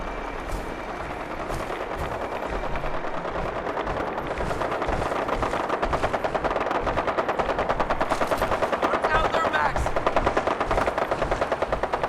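Sustained automatic gunfire in Fallout 4 with the Horizon mod in Desolation Mode, dense rapid bursts rattling continuously and loudly, building slightly in intensity toward the end.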